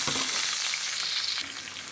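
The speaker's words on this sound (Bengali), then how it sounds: "এখানে আমি দিয়ে দিয়েছি এক কাপ পরিমাণ পেঁয়াজ কুচি সেটা একটু ভেজে নিচ্ছি" Chopped onions frying with garam masala in a pan for a beef tripe bhuna, a steady loud sizzle throughout with soft stirring scrapes, easing slightly near the end.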